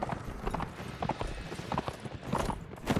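Horse hooves clip-clopping in the medieval combat video game Mount & Blade, a quick uneven patter of hoof strikes mixed with faint clanking and background game noise, fairly soft.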